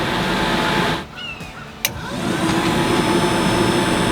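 A van roof vent fan runs in suck mode, a loud steady whooshing hum that dips for a moment after a click, then surges back to full strength and holds.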